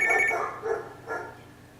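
A telephone rings inside a house in a dramatic scene, two or three trilling bell bursts with short gaps, close and fairly loud, fading slightly toward the end.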